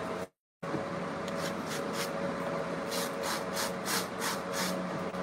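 Clothes are scrubbed by hand in a wash outdoors in Africa, a steady wet rubbing with a series of rhythmic rasping strokes that quicken near the end, alone and fairly close.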